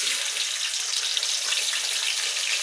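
Chopped onions hit hot oil already spiced with cardamom, cloves, black pepper and cinnamon, giving a steady, loud, broadband sizzle that holds evenly throughout with no talking.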